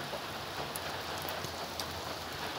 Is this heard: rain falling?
yes